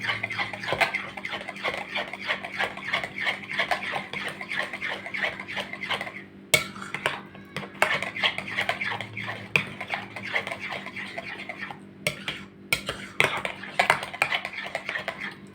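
A utensil scrapes and clinks rhythmically against a bowl while eggplant salad with garlic, salt, pepper and cumin is stirred, in steady repeated strokes with a few brief pauses.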